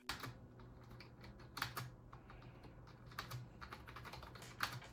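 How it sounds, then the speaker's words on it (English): Typing on a Razer Ornata V3 X budget gaming keyboard with membrane switches gives soft, muffled key presses in an irregular flurry. A few louder taps, likely the spacebar, stand out, and the sound is very quiet and close with no talking. "This keyboard is equipped with Razer's membrane switches. That's why it has a quiet and soft typing experience."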